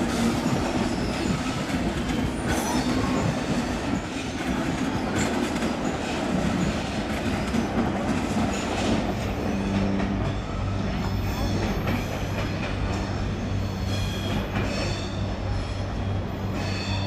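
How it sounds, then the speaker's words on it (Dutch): Passenger train running through the Alpine region on a line via Bern and Lausanne toward Geneva airport, a steady close rumble of wheels on rails with clickety-clack and brief squeals, continuous throughout with no talk. "En deze trein gaat via Bern en Lausanne naar Genève, naar het vliegveld van Genève."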